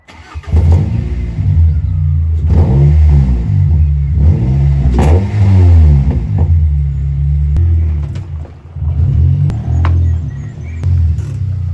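A Ford Fiesta ST engine revs hard several times through a loud, rumbling non-resonated high-flow sports cat exhaust, rising and falling in pitch with brief pauses between bursts.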